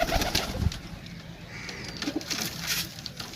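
Domestic pigeons coo softly in a short, low burst near the start, then again near the middle, over a steady bed of outdoor background noise and faint chirps.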